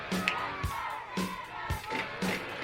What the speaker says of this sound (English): As the crowd starts up again.